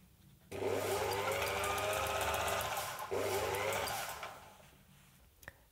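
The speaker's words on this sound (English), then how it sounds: "Place your fur in the machine and start sewing." A lock-stitch sewing machine stitching through fur runs in a loud, steady mechanical whir with a rapid needle rhythm, pausing briefly midway, then slowing and stopping, ending with a small click.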